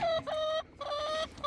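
Backyard chicken clucking close by in two drawn-out, tonal calls separated by a brief pause, clear and alone with no talking.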